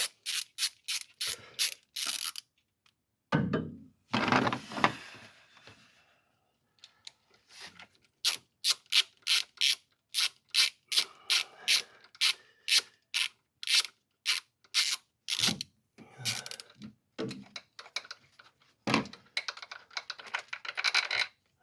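A hand ratchet loosens the intake manifold bolts on a 2019 Toyota Yaris, giving close, crisp bursts of rapid clicking separated by short pauses and a few louder knocks.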